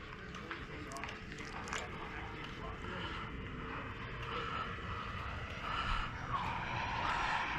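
A Freewing Thunderbird 90mm EDF radio-controlled jet comes in to land, its ducted-fan whine rising and sweeping over broadband wind rush near the microphone, with voices talking faintly.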